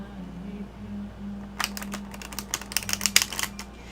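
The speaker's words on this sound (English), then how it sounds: "one more riffle shuffle." Playing cards riffle together in a quick fluttering burst of light clicks, close by, over a low steady hum.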